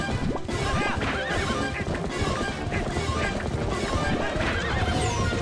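A horse in The Legend of Zelda: Twilight Princess neighs and gallops amid dense, busy game noise, with loud hoofbeats and whinnies layered over clashing effects throughout.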